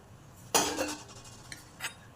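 A metal lid comes off a cooking pot of boiling sambar with a sharp clank, followed by a few faint clinks of utensils in a quiet kitchen.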